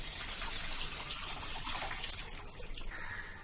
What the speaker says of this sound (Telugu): ఇంకా కొంచెం వాటర్ వేసుకొని